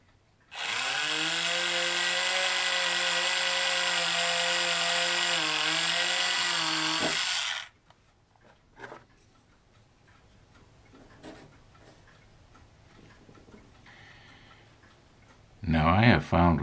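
A small power drill whirs loudly and steadily for about seven seconds while making a pilot hole in a model ship, then stops; quiet handling clicks follow and a brief burst returns at the end.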